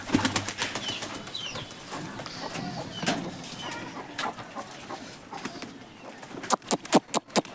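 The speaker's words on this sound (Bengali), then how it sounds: "এই তো কবুতরগুলো খেতে চলে আসছে।" Pigeons fly in to feed among farm fowl, with sharp bursts of wing flapping that grow louder toward the end, mixed with clucking and bird calls.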